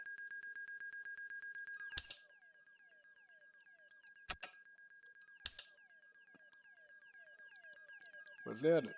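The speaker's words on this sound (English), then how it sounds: "Emergency locator alarm" In the cockpit of a PC-12 in the X-Plane 11 flight simulator, the emergency locator transmitter alarm beeps in a steady rapid pulse throughout, with faint clicks and a brief burst of noise near the end.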